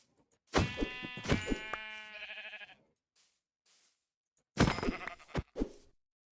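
Sheep in the Minecraft video game bleat twice, each a loud, close, wavering call, separated by a few quiet seconds, with no talking.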